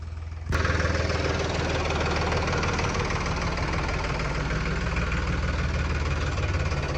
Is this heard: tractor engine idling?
yes